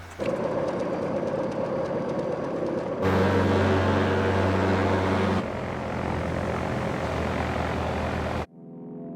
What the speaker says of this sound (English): arrived with a Cessna 185 so they can scout the landing strip